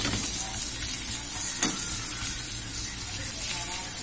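Dried bisugo fish sizzling steadily in an oiled pan, with occasional stirring scrapes over a constant frying hiss.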